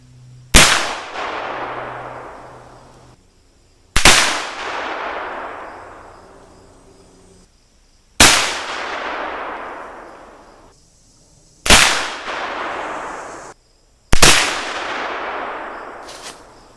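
Five loud, sharp muzzleloader shots, each a round ball driven by 80 grains of Pyrodex, fired outdoors at roughly four-second intervals, every crack followed by a long rumbling decay that fades before the next.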